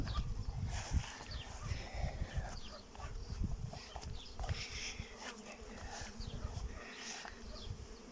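Carniolan honey bees drone steadily around a hive entrance outdoors, a close, continuous buzzing with individual insects passing near.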